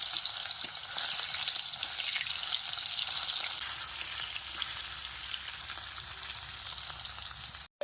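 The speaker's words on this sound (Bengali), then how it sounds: "চলো এখন মাছগুলো ভেজে নেওয়া যাক" Fish frying in oil over a wood-fired clay stove in a Sundarbans village, a loud, continuous close-up sizzle that holds steady throughout before cutting off abruptly at the very end.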